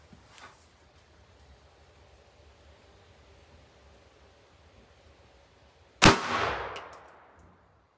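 A .300 Blackout subsonic round fired from a rifle into a ballistic gel block outdoors, a single sharp crack after a long quiet stretch, followed by a brief noisy decay.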